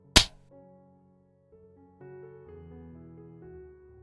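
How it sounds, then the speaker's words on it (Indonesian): A single hard slap to the face as an audio drama effect: one sharp, loud crack at the start, followed by soft sustained music tones. "Mama Reni sudah memberikan tamparan kasar kepada putranya itu."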